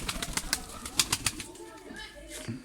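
Faint sounds from a sick pigeon, soft cooing and bursts of wing flutter, come in quick clusters against a quiet background.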